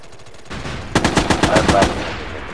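Rapid automatic gunfire in the video game Valorant comes as a loud, close burst of evenly spaced shots lasting about a second, trailing off into a short echo.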